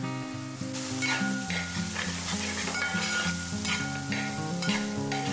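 Kerala-style rabbit pepper roast sizzles loudly in a pan as it is stirred with masala, a dense continuous frying hiss with scraping stir strokes.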